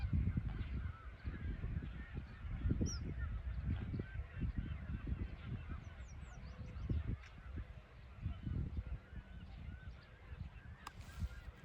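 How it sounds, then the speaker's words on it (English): A flock of geese crowded on a lake island near a campground honks continuously, a dense distant chorus of overlapping calls with wind and outdoor noise, no voices. "The island's almost white with birds."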